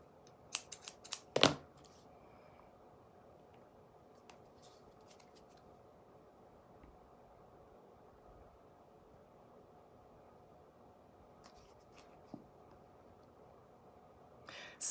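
Scissors snip through clothesline rope during a craft project, a brief cluster of close, crisp cuts near the start, followed by a long quiet stretch with faint handling noises and one more soft snip near the end.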